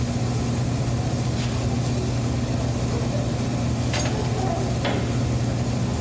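Protein searing in hot oil in a stainless steel pan, a steady close sizzle with a low constant hum beneath and a few faint clicks or ticks, no voices.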